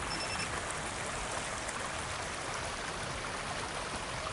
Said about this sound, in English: And the water runs down here